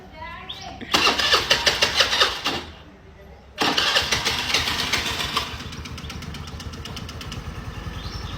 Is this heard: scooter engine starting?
yes